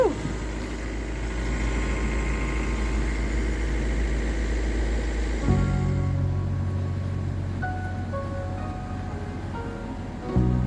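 A sailboat's motor drones steadily while under power at sea, a constant low engine rumble that shifts in tone midway and continues alone without talk.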